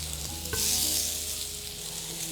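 Zucchini slices sizzle steadily in a hot pan, a close, continuous frying hiss with a brief clatter as pieces are set down.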